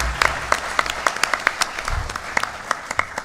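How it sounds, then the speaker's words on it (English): An audience at a school event on offshore wind gives applause for the staff who organized it, a steady mass of clapping with a few sharper, closer claps standing out. "Let's give them a nice round of applause."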